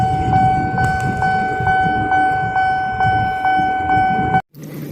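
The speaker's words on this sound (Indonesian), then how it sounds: "Widih, ternyata yang ini kereta api cepat." A toy high-speed train sounds off with a loud electronic tone: two steady, near pitches that pulse in a regular repeating rhythm for about four seconds, then cut out abruptly, leaving a brief quieter buzz.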